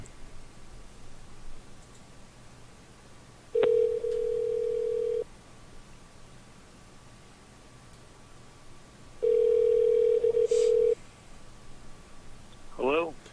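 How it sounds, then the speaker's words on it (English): A phone call being placed: two long steady electronic tones separated by a quiet gap over faint background hiss, then a quick burst of dialing tones at the end, with no voices. "We're going to go ahead and give him an old jingle here on the phone"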